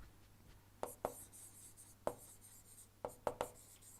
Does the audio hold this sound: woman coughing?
no